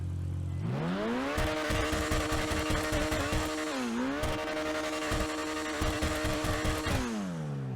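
Overflod Entity MT supercar in GTA Online revving hard. The engine tone climbs, dips briefly and climbs again, with a rapid rattling pulse through a loud, continuous roar.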